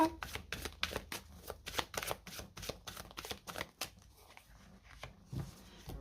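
Oracle cards being shuffled and drawn, with close, crisp riffling flutters in quick rapid bursts that thin out toward the end, quiet and without talking.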